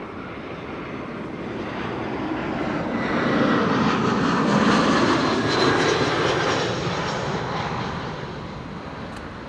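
Airliner approaching Amsterdam Schiphol Airport, a sustained broadband jet roar that swells toward the middle and slowly eases, loud and steady with no talk.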